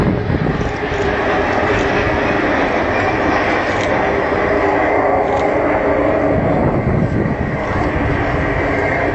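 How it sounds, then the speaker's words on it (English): Avro Vulcan XH558 bomber at an air display, a loud sustained roar of jet engines filling the air as it flies back in toward the crowd, steady and unbroken. "So Vulcan coming back in towards us."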